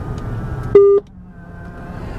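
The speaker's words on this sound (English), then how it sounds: "That beep is coming from the Nokia cradle there." A single short electronic beep, steady in pitch, from a Nokia phone cradle sounds once inside a quiet, cheap Jaguar car over a low rumble of background noise.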